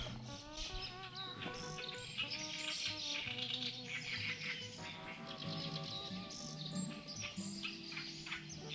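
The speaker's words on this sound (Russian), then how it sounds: "Птички поют" Birds singing on the Amur riverbank, several overlapping chirps and warbling calls throughout, mixed with a faint insect trill, fairly quiet and unbroken by talk.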